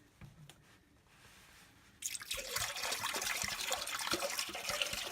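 Antifreeze is poured into a toilet's top tank while a lakehouse is winterized. After a quiet start, a steady, close liquid splashing and trickling begins abruptly and continues loudly without a break, with no voices over it.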